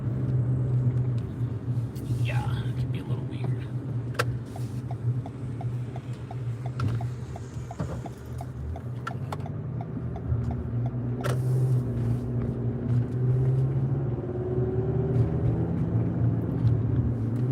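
Car driving along a narrow country road, a steady low engine and road rumble running throughout with a few louder bumps, while a person talks over it.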